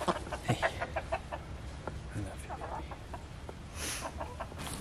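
Chickens clucking at a homestead chicken coop, with repeated short clucks and calls close by and a person talking softly among them.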